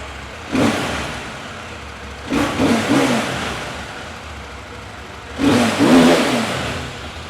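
A KTM 790 Adventure motorcycle engine on its stock exhaust is revved in three separate bursts, each rising and falling back to a low idle rumble, close by with no talking.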